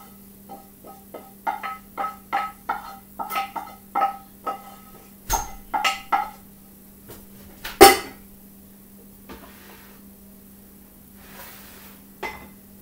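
Onions go into a pot for a bean and brown rice dip, followed by a series of light, rhythmic clinks and scrapes of a utensil against the pot, some louder knocks in between, with a low steady hum behind them.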